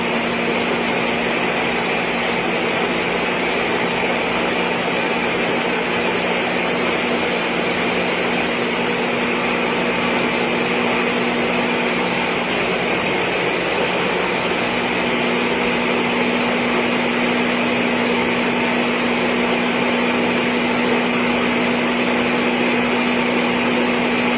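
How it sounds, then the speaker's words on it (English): A blender runs steadily at full power, whirring as it blends sea moss, with a constant motor drone and no pauses or talk throughout. "That blender is everything."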